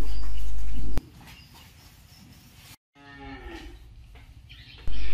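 Cattle at a cattle market in Tra Vinh, including Sind beef cattle and cows, give loud, close, drawn-out moos against steady background noise from the market.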